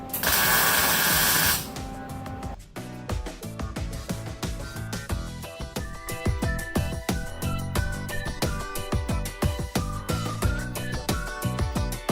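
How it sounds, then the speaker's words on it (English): Stitch welding a car trunk pan to the frame rail, heard as a harsh hiss followed by rapid crackling welder bursts in an irregular stuttering rhythm, close and continuous. "He's gonna stitch the trunk pan to the frame rail."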